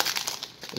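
The wrapper of a 2019 Panini Donruss baseball card pack is torn open, a brief close-up burst of crinkling foil lasting under a second.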